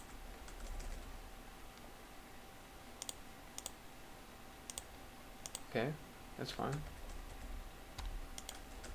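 Sparse clicks from typing on a computer keyboard tap irregularly in a quiet room, faint and close, while a person speaks briefly in the middle.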